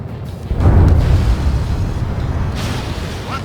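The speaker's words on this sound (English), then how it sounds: "A huge explosion just went off underwater, Trigger." An underwater explosion in the Ace Combat 7 video game: a deep, booming low blast swells up after a quiet start, then rolls and rumbles away, with a second fainter surge near the end.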